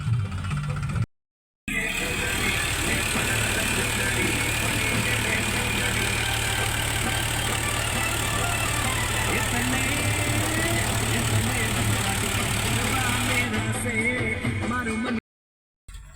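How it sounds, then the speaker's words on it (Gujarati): A tractor digs holes for wire fencing in a field, its engine running in a steady, fairly close rumble with a rough, churning texture. It continues for most of the stretch, briefly cut out near the start and end, while voices talk over it. "આ બાજુ અમારે ટ્રેક્ટરનું કામ ચાલુ છે, ખાડા ગાળે છે"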